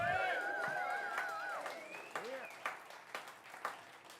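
A crowd at a live music night applauds the band's drummer with steady clapping and cheers. A voice speaks over the opening, and the clapping tapers into a few louder isolated claps.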